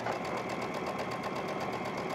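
A sewing machine stitches a petticoat ruffle in one continuous, even whirring run, close and steady throughout.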